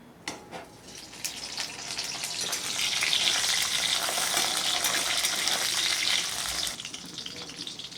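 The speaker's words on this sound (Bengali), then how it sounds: "বন্ধুরা, আমার তেল গরম হয়ে গেছে। এর মধ্যে কেটে রাখা আলু আমি দিয়ে ভেজে নিচ্ছি।" Cut potatoes hit hot oil in a wok for a rohu fish curry and fry with a loud, steady sizzle that swells after a second and holds for several seconds before easing off.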